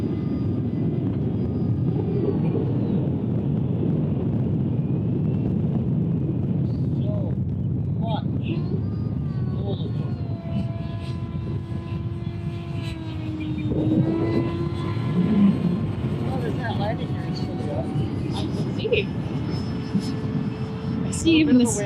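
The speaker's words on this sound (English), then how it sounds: "I see even this jet struggling to get in the wind." A Rebel 70 RC model jet flies in high wind, a loud, steady engine roar heard throughout with gusty wind noise, while people talk over it.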